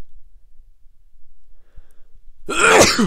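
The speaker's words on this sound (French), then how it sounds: "Je vais éternuer." A single loud, close sneeze bursts out abruptly after a near-silent pause in a general mathematics lesson on union and intersection.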